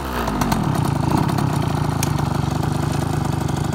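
A 2004 KTM 50cc dirt bike engine idles close by after a start, settling into a fast, even buzzing putter that holds steady.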